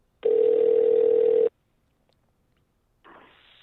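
A phone line gives a steady single-pitched tone for just over a second while calling someone back, then falls silent before a soft rushing noise starts.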